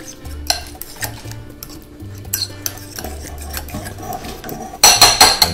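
A spoon stirs pizza sauce with olive oil in a bowl, giving close, irregular clinks and wet scraping strokes, then a louder burst of clattering near the end, with no voices.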